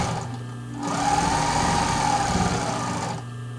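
A sewing machine runs a short burst stitching elastic onto fabric for a tank top, a steady close mechanical whir lasting a couple of seconds between quieter pauses.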